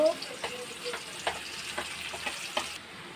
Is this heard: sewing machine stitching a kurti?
no